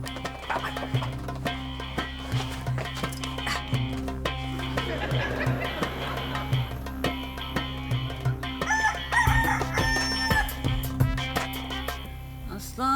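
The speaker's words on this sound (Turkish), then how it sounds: "Bir şey değil hayatım horoz sesi işte da." A rooster crows amid a busy, cluttered soundscape of overlapping voices and background noise, the crowing blending with ongoing chatter.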